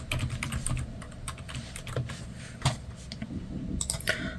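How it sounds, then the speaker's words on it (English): Fingers type on an inexpensive Logitech computer keyboard, a close, steady patter of key clicks with occasional louder strikes, continuous over several seconds with no talking. "let's see if the keyboard works."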